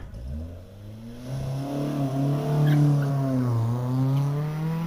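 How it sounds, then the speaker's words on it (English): A Mazda MX-5 racing car accelerates hard up a hillclimb course, its engine note rising in pitch through the gears as it passes fairly close, with a brief tyre squeal. "So Sean West now, number 122. Mazda MX-5."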